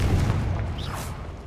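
Confringo spell blast in Hogwarts Legacy, a short heavy low boom with a crackling burst on top, loud and close, fading quickly within a second and a half.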